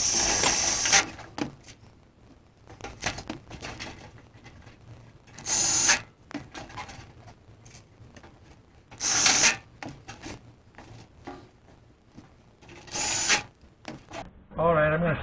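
Screws being driven through pilot holes in John Deere 9770 sheet-metal tin, heard as short, loud ratcheting and rubbing bursts that repeat at intervals over a quieter background of handling noise.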